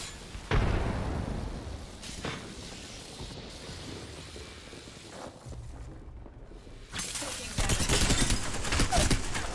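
Gunfire and a frag grenade blast from the Apex Legends video game: bursts of rapid shooting, a sharp explosion and loud, dense volleys toward the end, with a voice faintly mixed in.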